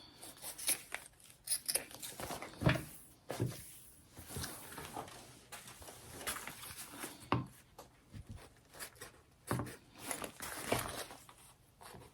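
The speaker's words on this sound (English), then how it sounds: "so I'm going to trim that down so that my binding, when I'm attaching it, is nice and even" Scissors snip through overlapping fabric layers while trimming a handmade sling bag, a run of short crisp cuts with rustling cloth between them, close and moderately loud, with no talking.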